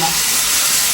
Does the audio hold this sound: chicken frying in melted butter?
yes